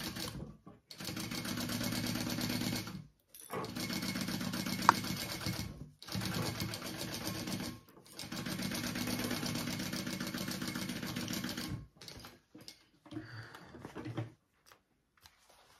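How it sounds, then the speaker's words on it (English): A sewing machine stitches a seam on a bag at full seam allowance, running in three long steady bursts separated by short pauses, close and fairly loud, ending with a few brief stops and quiet handling. "And sew that at your full seam allowance."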